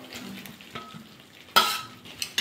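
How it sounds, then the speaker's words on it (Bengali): Fried mixed vegetables hit hot spiced oil in a wok with a sudden loud sizzle that fades over a second. Soft stirring and faint utensil scrapes come before and after, and no one speaks. "এবার ভাজা সবজিগুলো দিয়ে দেবো।"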